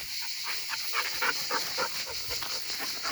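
A dog pants rapidly and steadily at close range, with faint whimpering mixed in, outdoors in nature over a constant background hiss.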